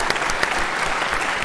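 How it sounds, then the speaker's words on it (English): Lecture hall audience at a Penn State university class clapping together, a dense, steady burst of applause filling the room without letup. "Dude, so applause."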